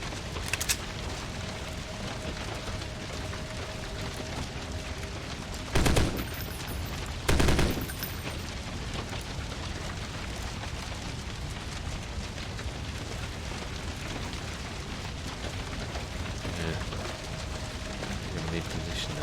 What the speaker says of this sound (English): They positioned on the high ground sniping at me.